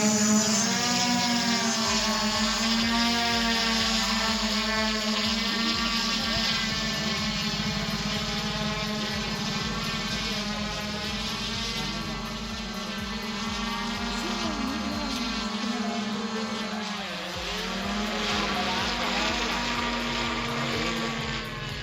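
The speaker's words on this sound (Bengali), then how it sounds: "বিশাল বড় একটা এরোপ্লেন ল্যান্ড করেছে এবং উড়ার জন্য প্রস্তুত হচ্ছে" A large airplane's engines drone steadily as it takes off, a sustained loud roar with a whining, wavering tone that holds for about twenty seconds.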